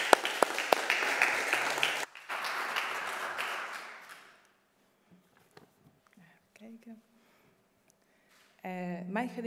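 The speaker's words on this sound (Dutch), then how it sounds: "Applaus voor Michelle Malara" Audience at a literary prize event for debut poets applauds, a dense burst of clapping that fades out over a few seconds, leaving near silence before a voice begins speaking.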